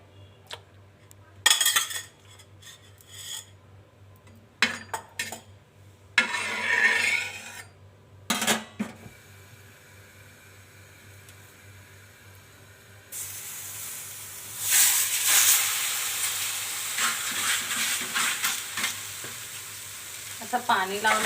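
Dhapate, spiced Maharashtrian flatbread, sizzling on a hot griddle, with intermittent clatter of a spatula and utensils early on, then a steadier, louder hiss of frying in oil toward the end; no talking.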